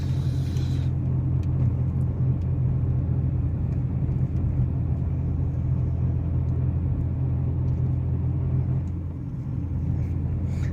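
A Hyundai Santro petrol car climbs a hill road, its engine a steady, continuous low drone heard from inside the cabin, holding constant with a slight dip near the end.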